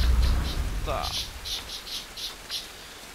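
Pet birds calling at home: short high chirps repeat at a steady pace somewhere in the room, fairly faint behind a low background hum, with a single brief spoken word partway through.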